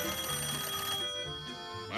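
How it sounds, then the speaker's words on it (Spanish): An old telephone rings in a house in 1985 Argentina with repeated bright bell trills in short bursts, fairly faint against room tone. "teléfono."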